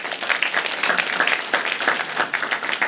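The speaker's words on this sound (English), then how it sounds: "Let's give Joaquin a round of applause." A room full of people at a library event applauds steadily, dense overlapping claps holding at an even level throughout.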